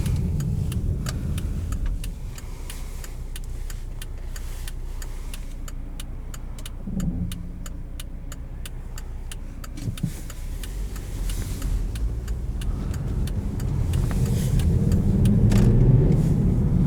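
A 2016 Volvo S60 Cross Country with a five-cylinder engine pulls away and drives, its steady low engine and road drone heard from inside the cabin, gradually rising toward the end, with a few faint clicks and no talking.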